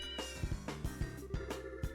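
A cat in the video game Trails in the Sky gives a few short meows over a steady game music background, close and clear, with no talking.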